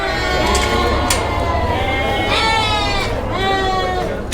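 Lambs bleat repeatedly in a barn at a livestock market, several overlapping high wavering calls with steady livestock shuffling and background noise.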